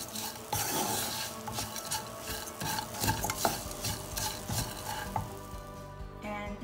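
Dry shredded coconut being stirred and roasted in a pan, dense scraping and rustling from a spatula with a faint sizzle and occasional metallic clinks, close and continuous.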